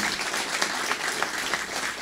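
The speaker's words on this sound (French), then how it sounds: "Et je vous demande de les applaudir fortement." Audience applause at a literary closing-night gala honoring Moroccan-Canadian writers, a dense, steady wash of clapping from a full room with no talk over it.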